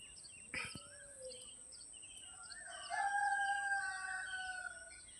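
At daybreak beside a calm river, a rooster lets out one drawn-out crow that swells midway and fades, preceded by brief bird chirps over a faint constant background hiss.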